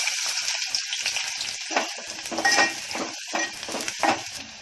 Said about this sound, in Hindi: ये देखो प्याज जाएगा पहले